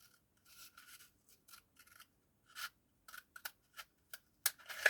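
Scissors cut paper along a pencil line during a craft project, giving a close, irregular series of short, crisp snips and rasps with quiet gaps between them and no talking.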